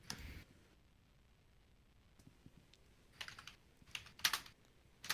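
Soft, irregular clicks of someone typing on a computer keyboard come in scattered bursts, quiet and close, growing busier toward the end, with no talking.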